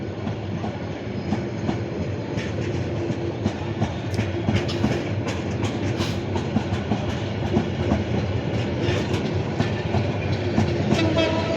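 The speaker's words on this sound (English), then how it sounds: "Fajrog Express departing Chittagong railway station" The Parjotak Express pulls out of Chittagong railway station with a continuous heavy rumble of rolling railcars, rhythmic wheel clatter and scattered metallic clicks, heard close and steady with no clear horn blast.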